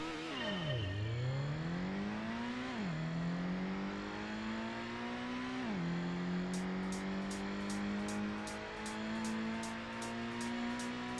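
A GTO race car in Gran Turismo 1 screams through its gears, the engine whine climbing and dropping at each shift, then holding a high steady note with rapid ticking clicks near the end, loud and alone.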